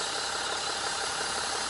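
A fully warm BMW diesel engine at idle, a steady dense mechanical clatter with an even knocking texture, close and constant for the whole stretch with no talking.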